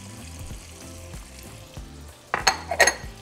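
Bite-sized potatoes seasoned with salt and black pepper fry in butter in a skillet, a soft steady sizzle joined near the end by a few sharp clinks of a utensil against the pan.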